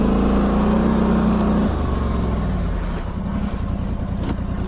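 A quad bike engine runs steadily and loud from start to end, with a low drone that shifts pitch partway through, during a solo ride.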